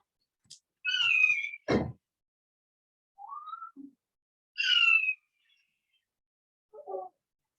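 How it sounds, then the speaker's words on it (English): Recorded calls of a Swainson's hawk play back, several thin screechy whistled cries with silent gaps between them, clear and isolated. "A Swenson's hawk sounds like this."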